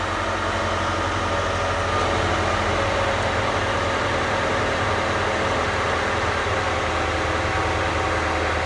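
A Hyundai EF Sonata with a 2.0 gasoline DOHC engine idles steadily and loudly up close, a constant low mechanical hum with no talk over it.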